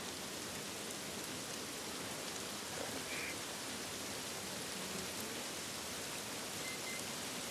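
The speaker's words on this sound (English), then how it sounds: "Love the attention to detail, the rain falling off their faces." Steady rainfall in the video game The Last of Us Part 1, a constant dense hiss of drops on surfaces with no pauses, fairly soft and even throughout with no talking.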